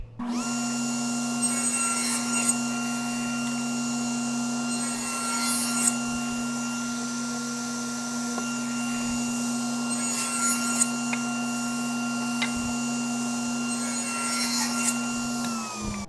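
A power saw runs steadily, cutting a wooden board guided against a fence set to half an inch, with a constant whine, periodic rasping surges and short clicks between passes.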